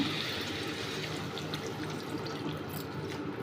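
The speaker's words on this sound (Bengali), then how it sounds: "এরপরে আমি জল দিয়ে দিচ্ছি কারণ বাঁকুড়া স্টাইলের পোস্ততে একটু ঝোল না হলে হয় না" Water pouring into a pan of Bankura-style poppy seed curry with potatoes, a steady close rushing splash that holds evenly throughout, with no talking.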